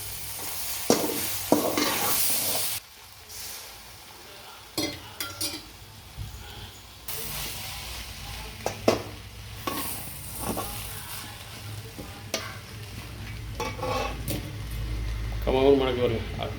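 Kothu parotta with chicken or mutton gravy is stirred and chopped in a hot pan, with sizzling frying and scattered metal clanks and scrapes, while someone talks over the cooking.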